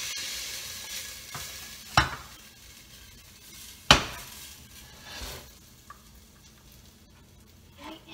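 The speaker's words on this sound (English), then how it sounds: "You can hear, of course, that it's still sizzling." Cabbage topped with a cheese mixture sizzles softly and steadily in a pan, broken by a couple of sharp utensil scrapes and clinks against the cookware.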